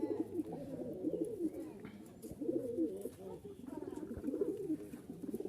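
A male Giribaz hand-flying pigeon from Rajshahi coos close by in repeated soft, throaty rumbling phrases, with someone speaking in the background.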